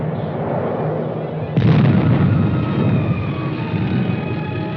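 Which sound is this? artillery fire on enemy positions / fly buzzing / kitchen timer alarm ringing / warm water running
artillery fire on enemy positions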